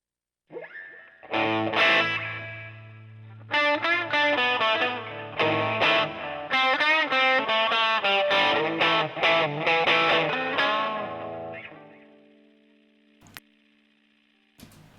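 Electric guitar played through an overdrive effect on a Valeton GP100 multi-effects unit, gritty distorted chords and picked notes ringing out for several seconds, then fading to quiet with a couple of clicks.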